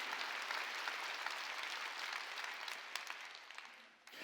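A church congregation at a Wednesday worship service claps together in a dense, steady burst of applause that fades out at the end, heard fairly distant and soft.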